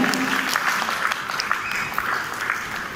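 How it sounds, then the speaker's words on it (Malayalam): Wedding guests at a Christian wedding ceremony applaud during a lamp-lighting, a continuous mid-distance wash of clapping from a seated crowd, fairly even and sustained. "എല്ലാവരും ഒന്ന് കൈയടിക്കണം കേട്ടോ."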